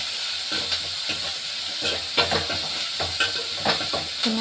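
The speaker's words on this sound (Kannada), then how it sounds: "ಚೆನ್ನಾಗಿ ಫ್ರೈ ಆಗಲಿ." Onions with salt fry in a pan for an avarekalu sambar, giving a steady hiss and sizzle broken by intermittent scrapes and clacks of a spoon stirring them, close and without talk.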